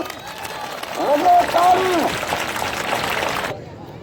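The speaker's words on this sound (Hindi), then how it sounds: "हल्ला हल्ला हल्ला लगे ताली" Spectators at a Sindhi malakhra wrestling match clap in a dense wash of applause, swelling and then cut off, with a voice calling out through it.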